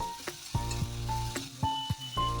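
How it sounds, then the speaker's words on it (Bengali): Potato and eggplant with green chillies fry in a pan for a Bengali greens recipe, a steady close sizzle broken by several stirring scrapes and light clinks of a utensil, with no voices. "কিছুক্ষণ আলু আর বেগুনটাকে নাড়াচাড়া করে ভেজে নেওয়ার পর দুটো লঙ্কা দিয়ে দিল"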